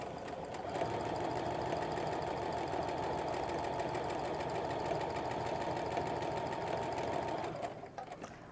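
A sewing machine runs steadily for several seconds, stitching half square triangles for a quilt, a continuous rapid mechanical whir close to the listener that cuts off near the end.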